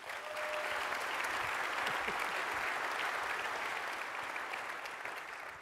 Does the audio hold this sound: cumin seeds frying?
no